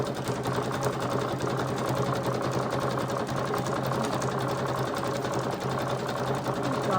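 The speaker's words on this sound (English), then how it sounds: "So, I am just like so excited. I am sewing." A sewing machine stitches a patchwork cover for a junk journal, running close and steadily with a fast, continuous mechanical rhythm and no pauses.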